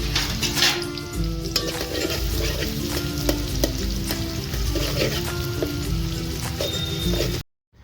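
Onion sautés in a pan over a wood-fired stove while making a spicy chicken curry, a loud continuous sizzle with repeated scraping stirs and utensil knocks, cutting to silence at the very end.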